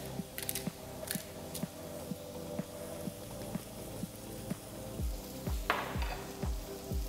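Asparagus and shrimp with black pepper are sautéed in a pan, making a low continuous sizzle broken by a regular series of scraping, clicking strokes from the utensil, getting louder toward the end.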